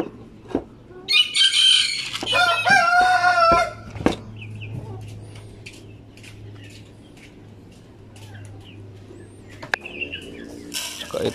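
Chickens on a farm cluck and squawk with a rooster crowing, loud and close at the start, then quieter scattered clucks over a low background hum, with a burst of activity near the end.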